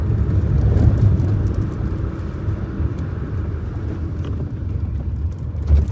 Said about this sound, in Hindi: अब देखो सेकंड गियर है, 40 की स्पीड आई, 3000 आरपीएम और थर्ड गियर